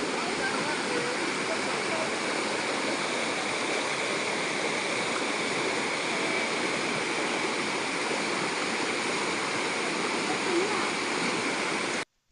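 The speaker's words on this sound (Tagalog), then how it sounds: "Tatawid nga pala kami dito ng maliit na ilog." A small river in the rainy-season countryside rushes steadily close by, a dense, even roar of flowing water that holds constant before cutting off abruptly at the end.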